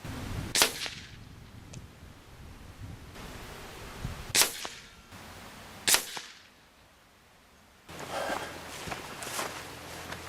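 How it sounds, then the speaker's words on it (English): Three sharp, sudden cracks from an FX Boss air rifle fired outdoors at a 50-yard target, spaced a couple of seconds apart amid low background noise and faint movement. "Well, there's 3 shots at 50 yards."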